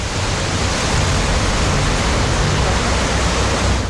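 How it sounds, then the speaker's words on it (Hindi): Water released through the gates of the Chandil Dam in Jharkhand roars continuously at high volume, a dense, steady rushing noise with no break and no voices. "डैम से पानी छोड़ा जा रहा है। पानी का शोर डरा रहा है।"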